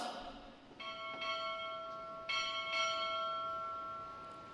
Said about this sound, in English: Strike 4 bells.